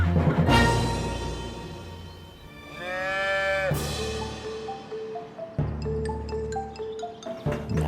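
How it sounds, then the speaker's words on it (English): Cows from a farm herd on an Edwardian-style farm lowing in several long, drawn-out moos, close and clear, separated by quieter pauses with faint farmyard sounds. "welcomed a new addition to their herd of cows"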